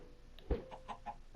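Chickens in a survival video game make a few soft, faint clucks in quick succession, with a short bump of noise before them.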